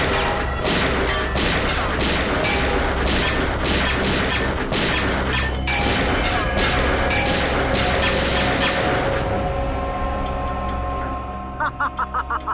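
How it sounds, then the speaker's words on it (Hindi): Rapid bursts of gunfire in a tense shootout from the CID crime drama series, a loud sustained volley of overlapping shots and crashes that thins out toward the end, with a few sharp isolated clicks. "क्यों फिजूल में कानून की गोलियां बर्बाद कर रहे हो"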